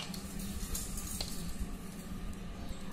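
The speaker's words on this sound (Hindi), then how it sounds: "ये सारी चीजें हमने अलग अलग बनाई थी जिसे अब हम मिक्स कर रहे हैं।" Separately prepared ingredients for a raw mango water pickle (panichu athanu) are stirred together, giving a steady, close, wet squishing and sloshing texture with no talk.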